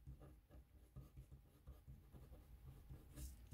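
Pen or marker writing by hand during a Grade 6 English lesson, a soft scratchy rubbing in short irregular strokes, faint and close, with no talk over it.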